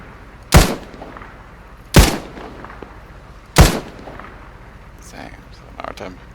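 Three loud, sharp gunshots from the video game ArmA 3, evenly spaced about a second and a half apart, each cracking sharply and then trailing off, followed by faint distant shots.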